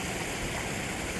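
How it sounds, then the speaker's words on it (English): Water runs continuously in a garden water feature in a wooded sculpture park, a steady, close, broadband splashing rush with no voices. "It's a very nice water feature."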